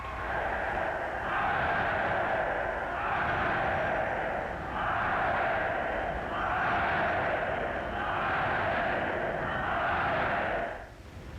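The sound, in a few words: crowd cheering at an event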